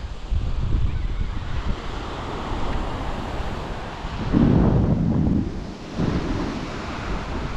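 Steady wash of surf rolling onto a shore at Kampung Sungai Kajang near Tanjung Karang, Malaysia, with wind rumbling across the mic and a heavier wave surge midway.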